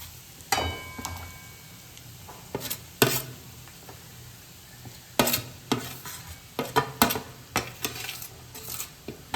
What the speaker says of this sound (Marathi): आणि त्याला मिक्स करून घ्यायचं आहे आपल्याला चांगल्या पद्धतीनं.